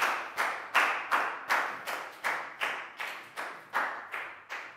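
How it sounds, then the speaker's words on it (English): A classroom of Year 4 pupils clapping for a student named Pat, about a dozen sharp, evenly spaced claps in unison, close and fairly loud with no voices. "Big round of applause for Pat."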